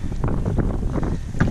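Strong wind buffets the microphone in heavy, rumbling gusts, loud and close, with no voices.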